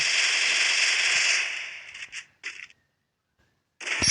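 Gunfire in a shooting video game, fired for a headshot: a sustained burst of loud crackling shots, then a few short sharp bursts, a pause of near silence, and another shot at the end.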